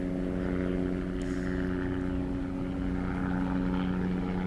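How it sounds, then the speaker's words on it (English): A helicopter's steady, droning rotor and engine hum holds throughout, loud and unchanging, as it hovers or passes overhead. "that helicopter is distracting me"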